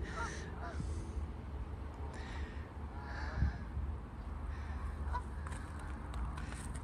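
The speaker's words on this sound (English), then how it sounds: "You can hear the Canada geese." Distant Canada goose honks rise now and then over a steady low rumble of wind or water at the Hayle Estuary, faint and scattered rather than close.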